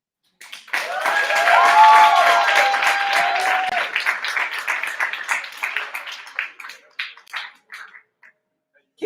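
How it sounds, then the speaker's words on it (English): A crowd at the Berkeley Poetry Slam applauds after a poem, with loud clapping and vocal cheers and whoops that swell early and then thin into scattered claps. "Keep that round of applause going for Jay Rice."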